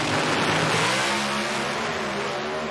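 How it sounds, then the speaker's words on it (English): A drag race car launches hard down the track at a Bradenton Motorsports Park pro shootout, its engine roaring loud and continuous with a rising, rasping rev. "Wow, Hartford's car carried the front wheels out there."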